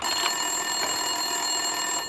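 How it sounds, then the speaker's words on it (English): An office telephone rings in the video game Max Payne 2, repeated electronic trills over a steady tonal hum at moderate loudness, with no voices. "Winterson's phone was ringing."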